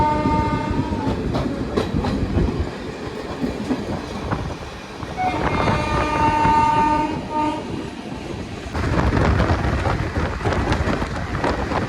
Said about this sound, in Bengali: দুটো ট্রেনই একসাথে ছেড়েছি বেলঘরিয়া থেকে।